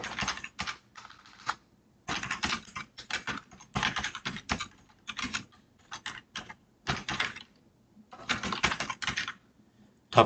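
Bursts of typing on a computer keyboard while entering a report name in reporting software, rapid close clicks in uneven clusters separated by short pauses, with no talking.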